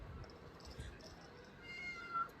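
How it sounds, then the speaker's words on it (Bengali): A white cat meows softly once or twice, a faint short call heard close by over quiet background noise. "এই সাদা বিলাই।"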